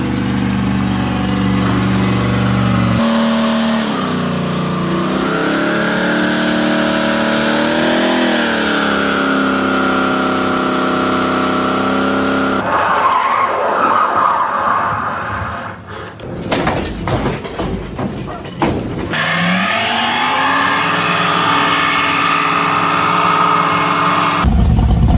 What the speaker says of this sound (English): so driving my Duramax truck here.